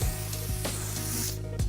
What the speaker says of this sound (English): Again, a very light hairspray with a hold factor 2 to 3.